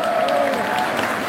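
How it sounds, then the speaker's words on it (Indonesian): A crowd at a political rally in Indonesia applauds steadily, a dense wash of clapping with a voice faintly beneath it. "Tepuk tangan buat semua yang hadir di sini."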